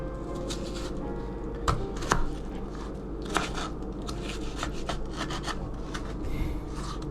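A knife chopping potatoes on a cutting board, with crunchy cuts and scraping rubs arriving in an uneven stream, up close and with no talking.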